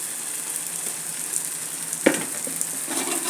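Semolina frying in a pan with salt and coriander, a steady soft sizzle throughout with a brief louder stir or scrape near the middle.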